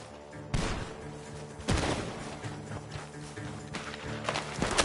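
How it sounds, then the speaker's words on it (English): Gunfire erupts from a barn in Red Dead Redemption 2, with sharp shots at about half-second, two-second and four-second marks over a constant game soundscape, plus scattered smaller cracks and movement between them. "The gunshots are coming from that barn."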